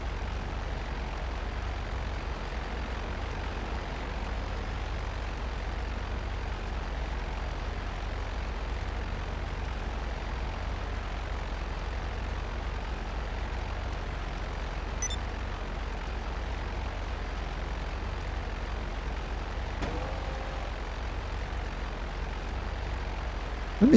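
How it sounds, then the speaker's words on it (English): A helicopter in the video game GTA Online makes a steady, unbroken engine and rotor drone for the whole stretch, with a brief louder blip at the very end. "This is helicopter."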